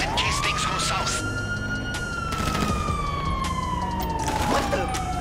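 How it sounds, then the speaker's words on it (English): Police sirens wail continuously in a video game robbery mission, a sweeping electronic tone that rises and falls over steady game noise, with a few sharp bursts near the end. "I can hear the sirens from here"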